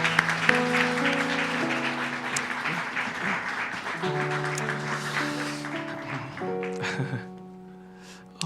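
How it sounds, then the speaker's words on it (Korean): Sustained applause from a church congregation during a Sunday service, dense and steady, with organ-like sustained tones underneath, fading near the end. "하나님께 영광의 박수 한번 올려드리겠습니다"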